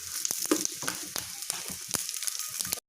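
Pieces of nalleru (veldt grape) frying in a pan while being prepared for a pickle, a close crackling sizzle broken by sharp stirring clicks and scrapes of the utensil, ending abruptly.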